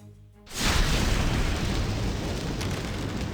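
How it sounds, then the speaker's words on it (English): A fire breath attack in a video game, Empire of Men with an Imperial Wizard on the hardest difficulty, opening as a sudden loud roaring whoosh that holds a dense, steady rushing blast to the end. "Breathe fire on that one."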